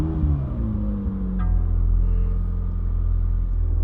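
A 2020 McLaren 600LT supercar engine starts up with a quick cranking burst that settles into a deep, steady, loud idle rumble, heard close and alone.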